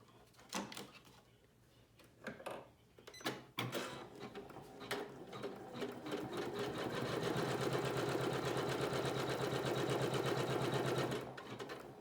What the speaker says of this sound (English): We're going to take it back to the machine and stitch that step.